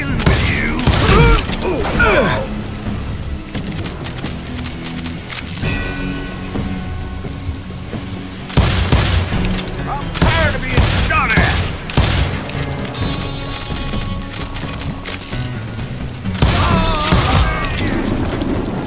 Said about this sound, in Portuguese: Eu tô levando tiro pra caramba.